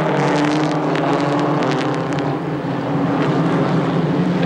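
Small Holden Gemini race cars in a one-make series roar past at Lakeside circuit, a loud continuous engine drone with wind buffeting the microphone.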